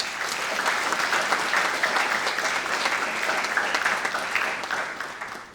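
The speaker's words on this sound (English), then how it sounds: "So give yourselves a round of applause." Audience applause fills a Model United Nations opening ceremony hall, a steady, loud wash of many hands clapping that holds evenly for several seconds before tapering slightly at the end.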